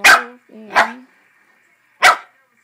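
Three close, loud dog barks, two in quick succession and a third after a short gap, with a faint tonal whine between them.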